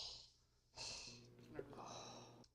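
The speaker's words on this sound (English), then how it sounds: "I need to stop breathing so much." Heavy, close breathing right into the microphone, with several loud rasping exhales and inhales and a brief sniff partway through.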